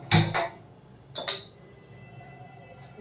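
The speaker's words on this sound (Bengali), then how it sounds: "এরপর একটা কড়াই বসিয়ে দিয়েছি, গ্যাসটা চালিয়ে নেব।" Metal kadai set down on a gas stove, giving two sharp clinks close by, then a second pair of clanks a moment later, with quiet kitchen background between.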